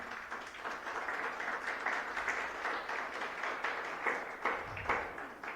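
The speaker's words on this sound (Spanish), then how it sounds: "Dale un aplauso al Señor." A congregation claps during a Spanish-language Sunday church service, a moderate, steady wash of many hands, with a little low rumble near the end.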